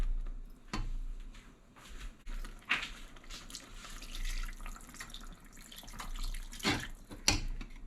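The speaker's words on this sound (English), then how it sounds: "I'm going to add maybe about a cup of water." Water trickles and splashes steadily into a pot holding braised lamb shanks, a quiet continuous pour with a few louder clinks and drips.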